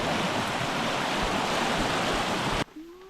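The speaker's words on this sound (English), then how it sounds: "Whoa, that river is moving, dude." Fast-flowing Gros Ventre River beside a campground in Grand Teton National Park, a loud, steady rushing roar close by that cuts off abruptly near the end.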